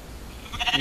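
A single sheep bleats close by, a short wavering cry rising out of low background noise.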